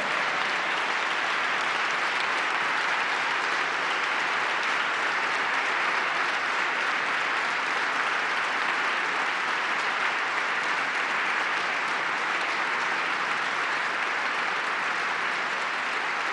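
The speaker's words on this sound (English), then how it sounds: "Got a lot of bipartisan claps for that." A legislative chamber fills with sustained, even applause during Pennsylvania Governor Josh Shapiro's 2024 budget address, a broad wash of clapping from a large audience that holds steady and unbroken.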